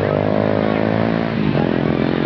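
Habal-habal motorcycles race with a loud, close, continuous engine drone that wavers in pitch mid-way, buzzing steadily for about two seconds with voices mixed in.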